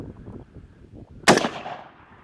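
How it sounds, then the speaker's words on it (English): A rifle shot hits a topless tannerite container set inside a pumpkin and sets off one loud, close, sudden blast that fades out over about a second. Quiet talk comes before it. "So we'll see what happens when you shoot a tannerite container without a top on it."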